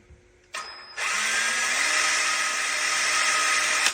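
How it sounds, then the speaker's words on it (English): A power drill whirs up briefly, pauses, then runs steadily at high speed for a few seconds, close and loud, with a faint click at the start, drilling with a countersink bit through a bushing in a section repair jig. "and drill it out"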